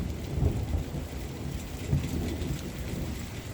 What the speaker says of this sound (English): Look at that thunder going off.